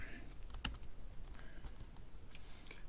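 Computer keyboard keys are pressed for Excel data-entry shortcuts, a handful of soft clicks with one sharp, louder keystroke early on, close and quiet with no talking.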